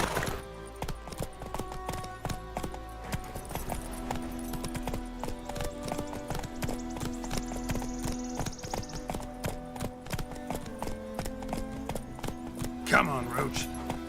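Hooves of Roach, a horse in the game Witcher 3, clop in a steady galloping rhythm throughout, with a brief whinny near the end, under game dialogue and background music.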